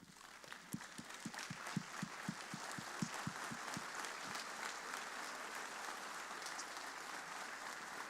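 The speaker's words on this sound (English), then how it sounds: "Brothers, can you please stand on your feet with me and clap it up for George and welcome him to Crown Forum." Brothers at a college Crown Forum stand and clap for a speaker, giving sustained, moderately distant applause with a steady wash of hands.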